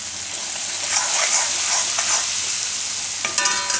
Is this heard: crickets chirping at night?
no